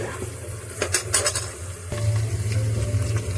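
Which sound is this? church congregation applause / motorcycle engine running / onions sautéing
onions sautéing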